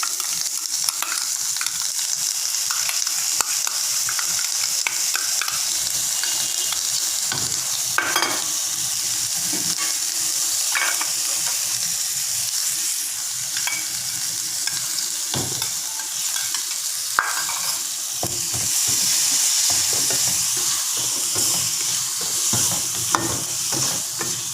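Long beans stir-frying in a hot pan with soy sauce, giving a steady, loud sizzle throughout with occasional scrapes and stirring clatter, no talking.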